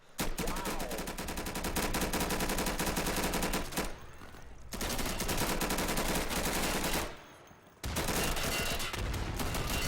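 Sustained automatic gunfire from a drum-magazine weapon in a video game, loud rapid continuous bursts with two brief pauses between long strings of shots.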